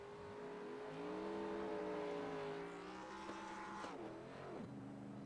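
Stock car in a racing video game, a revving engine that climbs and holds in pitch, drops away and briefly wavers as though missing a gear, heard alone with no commentary.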